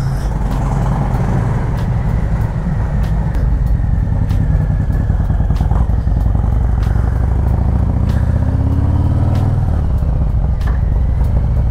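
A Harley-Davidson motorcycle of about 300 kg with 115 foot-pounds of torque and 100 horsepower rumbles loud and close in a car park, its deep engine note steady and then rising as the bike rides away.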